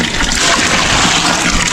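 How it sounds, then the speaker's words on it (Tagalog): Hot water pours steadily into a tub for washing dishes, a dense, continuous gushing splash that holds at an even level throughout. "lagyan natin ng mainit na tubig"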